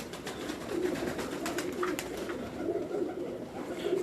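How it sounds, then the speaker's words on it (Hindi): Salara pigeon cooing in soft, repeated low murmurs at close range, with a steady hum of background noise and no voices. "अच्छा, ये सलारे कबूतर है।"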